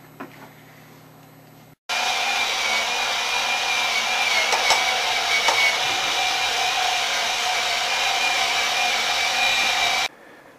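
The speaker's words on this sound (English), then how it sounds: "I'll show you guys how the motorized feature works" A motorized Power Rangers Ultrazord toy runs with a constant whirring motor drone, starting abruptly after a quiet moment and stopping suddenly about eight seconds later, loud and close.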